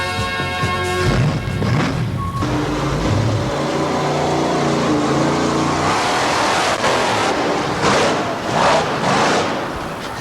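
A 1987 TNT Montgomery monster truck drives with a loud, continuous engine roar that rises and falls through several revving surges, with no voices over it.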